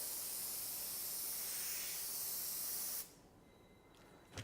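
TensorGrip adhesive sprayed from a spray gun in a web pattern, a loud steady close hiss lasting about three seconds before cutting off to quiet, with a faint hiss returning at the end.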